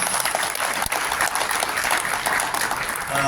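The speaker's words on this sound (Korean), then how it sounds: "뜨거운 박수를 보내주시기 바랍니다" An audience at a Korean press center meeting applauds warmly, with steady, dense clapping that fills the whole stretch and has little talk beneath it.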